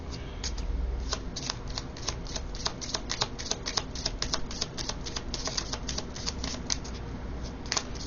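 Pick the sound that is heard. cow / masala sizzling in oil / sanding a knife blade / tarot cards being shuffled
tarot cards being shuffled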